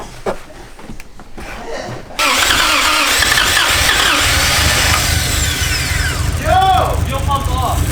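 Swapped Toyota 1JZ VVTi engine cranking on a start attempt, a loud rapid mechanical churning that kicks in after a couple of seconds and continues steadily, with a voice briefly audible under it.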